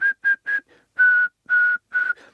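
A headlamp's emergency whistle signal gives shrill, steady blasts, three short then three long and one more short, loud and close with silence between.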